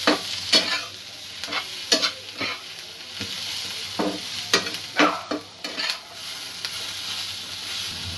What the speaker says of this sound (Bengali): কারিটা একটু বেশিক্ষণ ফ্রাই করা হচ্ছে।